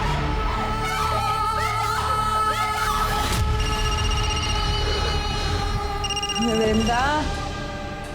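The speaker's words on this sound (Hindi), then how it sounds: "देख क्यों नहीं रही किसका फोन है?" A telephone rings repeatedly under a busy mix of voices and dramatic music, the ringing tone recurring in short bursts.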